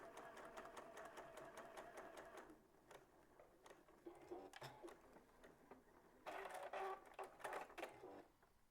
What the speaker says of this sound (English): we're going to sew from that dot to that dot.